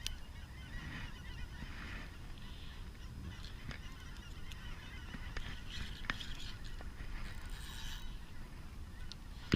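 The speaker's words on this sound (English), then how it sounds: "Stupid geese. Ruining my video." Geese honk repeatedly outdoors beside water where people are fishing, their calls scattered across a steady background of wind or broadband noise, with no talking.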